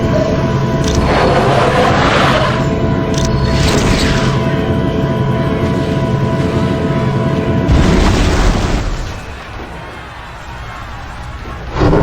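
Galactus's energy blast detonating in Marvel Ultimate Alliance, a sustained loud roaring rumble with bursts of crackle, swelling again before cutting to a quieter tail and a final surge.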